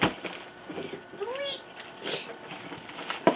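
A plush toy cat, a present being opened, lets out a short electronic meow as it is pressed and petted, heard once mid-clip among light household noise and children's voices.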